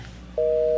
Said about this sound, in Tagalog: Saan mo na makontak ti cellphone ni Jessa?